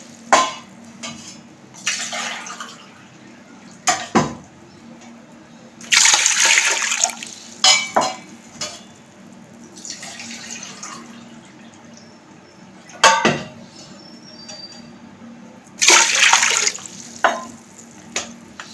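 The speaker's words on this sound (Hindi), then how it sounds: "3 गिलास पानी ऐड कर देंगे।" Water poured into a cooking pot while making Pakistani beef yakhni pulao. Several separate bursts of splashing pour, each a few seconds long and fairly close, with quieter gaps and small clinks between them and no talking.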